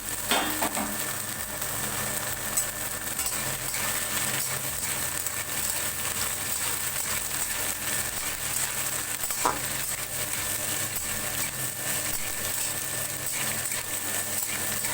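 Chopped carrot, beans and capsicum fry together with sabu pulao in a pan, giving a continuous close sizzle with occasional stirring scrapes and a faint low hum underneath, no voices.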